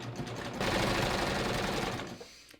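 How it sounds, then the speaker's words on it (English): A Baby Lock Ovation serger sews a 4-thread safety stitch through cotton fabric at stitch length 3, a loud, steady motor whir and rapid needle chatter that kicks in after a brief idle hum and cuts off just before the end. "I'm just going to start stitching."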